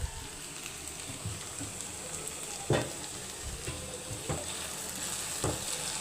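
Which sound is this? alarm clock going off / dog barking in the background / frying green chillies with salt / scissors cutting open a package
frying green chillies with salt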